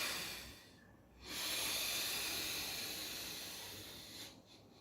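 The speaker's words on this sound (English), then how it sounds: "So this is the full yogic breath." Full yogic breath: a long, deep, airy inhalation taken close to the mic, followed by a slow, steady exhalation that fades out, with no talking.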